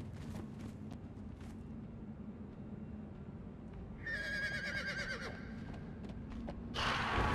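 In the video game Conan Exiles, a horse lets out a bright whinnying neigh midway through steady ambient game noise, then a louder burst follows near the end.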